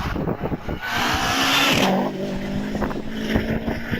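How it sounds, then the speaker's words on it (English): A Subaru Legacy GL races up a hillclimb course, its engine revving hard and surging past nearby, then fading as it climbs away, with a steady crowd or ambient rumble underneath. "Damien Bradley into Farmhouse with the Subaru Legacy GL."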